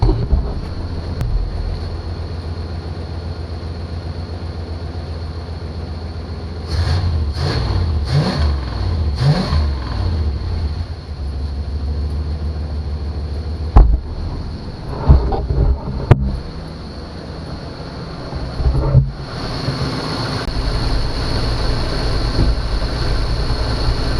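A 1991 Chevy Caprice engine idles with a low, steady rumble, then is revved in a cluster of quick throttle blips, followed by a few sharp bursts and a final climb in engine noise, close and loud.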